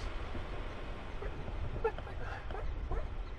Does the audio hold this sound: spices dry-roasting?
no